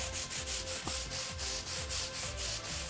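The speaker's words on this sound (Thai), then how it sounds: "นี่เราก็ขัดไปเรื่อยๆนะครับคราบมันก็จะเริ่มสลายออก" A brush scrubs multi-purpose cleaner into an oil stain on a concrete floor, making steady, rhythmic back-and-forth rasping strokes, close and continuous with no talk.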